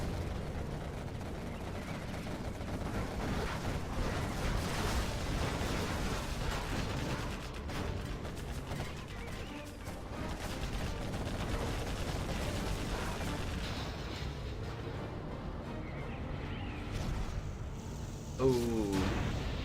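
Fuel air bomb blasts in the real-time strategy game Command & Conquer Generals: Zero Hour, heavy booming explosions and gunfire rumbling continuously through a dense battle mix, with someone commentator talking over it.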